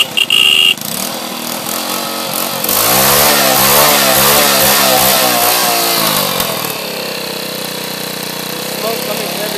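A 1965 Honda CT motorcycle engine running with the choke on, rising into a loud, rough revving burst in the middle before settling back to a steady idle, close by.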